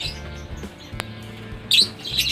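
Lovebirds chirp during mating, a few short, sharp high calls in bursts, the loudest near the end, over a low steady hum of background noise.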